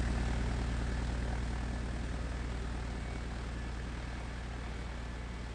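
An airliner's engines roar at full power through the takeoff and climb out in a flight simulator, a loud, steady drone that holds without a break.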